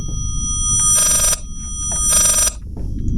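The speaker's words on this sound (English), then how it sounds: "I don't know why this freaking thing sounds like a phone." A telephone bell rings inside the horror game Layers of Fear, two loud bursts of ringing about a second long each, separated by a pause, over a low rumbling ambient background with no talk.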